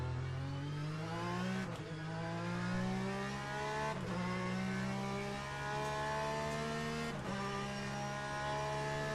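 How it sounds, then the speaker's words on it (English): Porsche 911 race car engine at Spa in the sim racing game Le Mans Ultimate, a continuous high revving drone climbing through the gears with three sharp upshift breaks, loud and steady with no talk. "So here I am in Le Mans Ultimate, also in a Porsche 911 at Spa."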